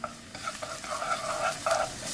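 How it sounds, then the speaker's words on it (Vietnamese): Minced lemongrass stir-fried in liquid lard in a pot, a steady close sizzle with scraping stir strokes running throughout, no voices. "Xào lên."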